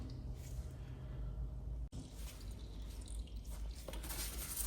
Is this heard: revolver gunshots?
no